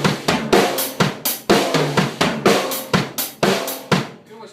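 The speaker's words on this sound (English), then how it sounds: "go to the floor tom, then back to the hi-hat" An indie rock and dance drum groove played on a kit, with the right hand moving from hi-hat to floor tom and back, giving a steady, close, punchy run of strokes mixed with cymbal wash.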